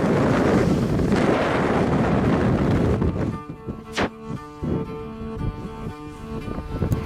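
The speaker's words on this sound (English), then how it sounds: "Listen to those wind gusts." Strong gusts of wind buffet the microphone on an open Mongolian mountain pass, a loud roaring rush that drops off abruptly midway, leaving quieter bumps and scattered rattling noises.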